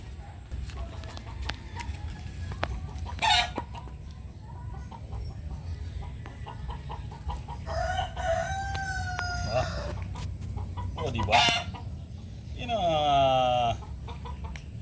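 Roosters crow at intervals over a busy outdoor background, with scattered clucking and a few distant voices in between.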